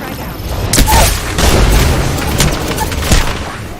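Frag grenade blast in the Apex Legends video game, a loud booming burst followed by rapid gunfire cracks in a busy firefight, with a player voice nearby.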